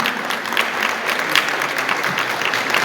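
Audience clapping at a badminton final, a dense, steady round of applause from a crowd that carries at full strength without a break.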